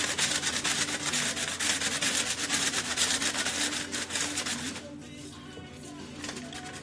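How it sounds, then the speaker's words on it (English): Continuous scratchy rubbing as dry biscuit ingredients are sieved into a big bowl, close and fairly busy for several seconds, then easing into quieter, sparser scraping. "I'm gonna just sieve that into a big bowl"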